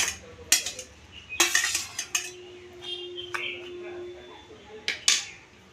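Garlic cloves, green chilies and coriander leaves pounded in a stone mortar: a few sharp clinking stone strikes scattered at irregular intervals, close and fairly loud over a quiet room background.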